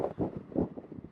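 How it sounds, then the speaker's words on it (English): Wind buffeting a microphone while riding a trail in Patagonia, low irregular gusty rumbles in quick surges, close and fairly loud. "The wind doesn't help when you've stood up and you're trying to battle the wind as well."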